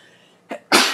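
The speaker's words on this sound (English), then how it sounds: "Oh, excuse me, I had to sneeze." A person sneezes close to the microphone, a short sharp intake followed by one loud, breathy burst.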